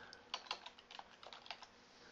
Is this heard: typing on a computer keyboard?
yes